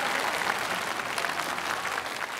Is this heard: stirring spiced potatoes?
no